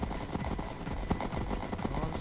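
Horse hooves gallop in a Minecraft horse race, a rapid, loud, continuous clatter of game hoofbeats with no talk over it.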